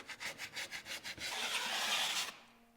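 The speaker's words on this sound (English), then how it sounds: "I'm also gonna scrape the tearaway itself" Joint compound scraped off a drywall tearaway bead around a window: a run of rhythmic rasping strokes followed by one longer steady scrape, close up with no talking.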